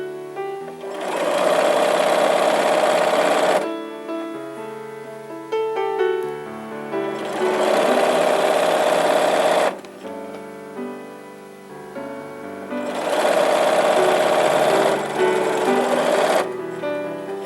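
Domestic sewing machine stitching through quilt fabric in three long bursts, each running several seconds with short pauses between, close and steady with a whirring motor hum.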